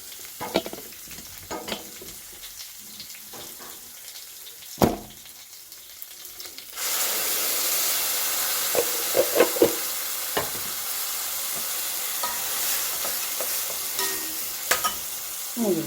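Cooked banana stem and green moong dal are poured into a hot pan of fried seasoning, where quiet stirring and clinks suddenly give way to a loud, sustained sizzle with occasional scrapes.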